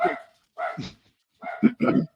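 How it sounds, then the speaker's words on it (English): A dog barks in two close pairs of sharp, fairly loud yaps separated by a short quiet gap, heard nearby with no talking over it. "excuse the dog"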